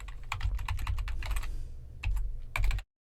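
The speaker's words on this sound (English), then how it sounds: "I'll type in my password" A password is typed on a computer keyboard, a quick run of close, crisp key clicks in uneven bursts with a short pause near the end before the sound cuts off, no voices.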